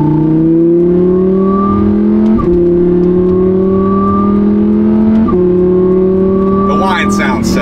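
Supercharged car engine revving with a loud, rising supercharger whine, three climbs in pitch each broken by a sharp shift, close and dominant, with a brief clattery burst at the end.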